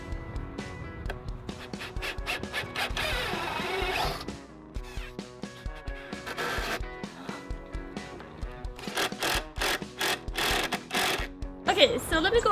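A power drill bores pocket screw holes in 2x4 lumber for a gazebo table frame, whining in long and short bursts with a buzzing, pulsing grind near the end, while a voice talks over parts of it.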